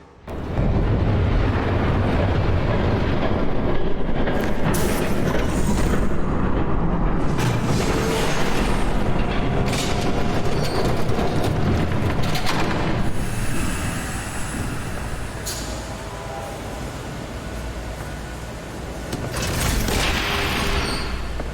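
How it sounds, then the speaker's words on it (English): A train rumbles past in the Telltale Batman video game, a loud continuous roar of rolling wheels and clattering cars with occasional squeals, easing slightly before surging again near the end, with no voices. "There's a train coming. Take cover."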